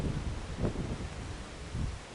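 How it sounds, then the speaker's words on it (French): Wind blowing outdoors, a steady mid-level rushing with gusty swells and microphone buffeting, no voices over it. "avec le vent qui fait, vous allez bientôt vous envoler"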